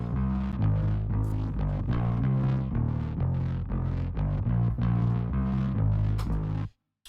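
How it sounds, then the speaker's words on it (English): A distorted synth bass layered roughly half and half with a sampled Rickenbacker bass plays a loud, driving riff of repeated low notes with gritty overtones, then cuts off abruptly, with no talking. "that synth bass patch I am layering with the Contact Rickenbacker bass"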